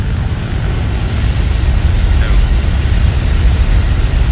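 Warplane engines in the War Thunder combat flight game run at full throttle as a steady, loud drone throughout. Players talk over it at times.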